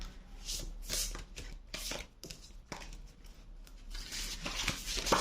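Rapid papery riffling of tarot cards in repeated bursts, close by, with soft taps between shuffles and no talking.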